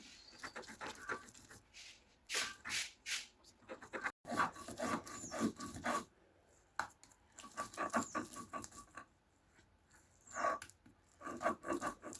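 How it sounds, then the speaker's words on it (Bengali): Beans, garlic, onion, dried fish and green chillies are ground by hand on a stone slab, giving close, rhythmic rubbing and scraping strokes in bursts with short pauses between them. "শিম রসুন পেঁয়াজ শুটকি কাঁচামরিচ সব কিছু একসাথে দিয়ে বেটে নেব শিলে বাটা ভর্তার মজাই আলাদা"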